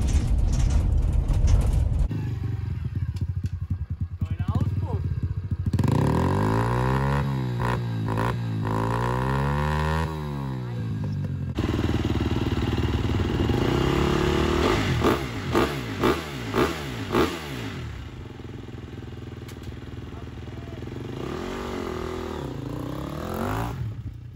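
A small motocross bike rides onto the track at a club motocross training session in Schwedt, its engine revving and rising and falling in pitch, loud and close, with clattering mechanical noise and no talk.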